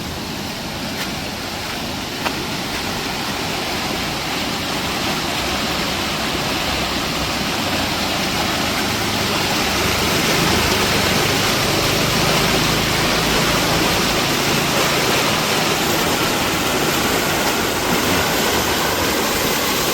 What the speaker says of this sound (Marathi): अजून जर असाच पाऊस पडत राहिला ना हा पाणी रस्त्यावरती येईल